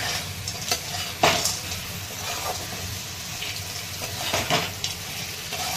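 Dried sandge lentil dumplings drop into a frying, spiced Marathi-style curry, giving a few soft plops and a brief stir over a steady close sizzle with no talking.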